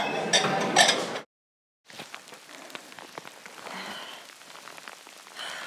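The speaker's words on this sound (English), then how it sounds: "it's raining" Rain patters steadily along the Appalachian Trail, a close, dense hiss of drops with a brief silent gap partway through before the pattering resumes at a lower level.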